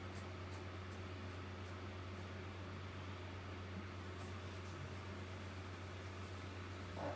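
A kitchen food processor sautés 20 grams of cooking oil at 100 degrees Celsius on its slowest stirring speed, giving a steady, even motor hum and whir with broadband noise that runs unchanged for the whole stretch, with no talk.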